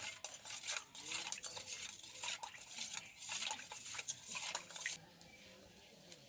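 Fuchka filling with coriander being mixed in a bowl, close rapid scraping and clinking of a spoon against the dish in an uneven rhythm, easing off toward the end.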